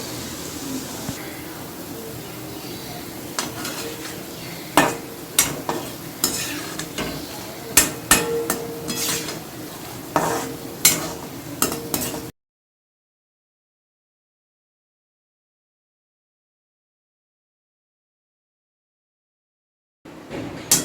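Boondi batter dropped into hot oil, sizzling steadily with frequent sharp taps and clinks of a ladle for about twelve seconds, then silence before the noise briefly returns.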